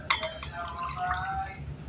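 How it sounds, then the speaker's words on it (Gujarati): Water is poured from a bowl into a pot for chutney in a home kitchen while khaman dhokla steams, a short trickle with light glassy clinks under someone speaking. "બે વાટકી જેટલું પાણી લઈ રહીશું"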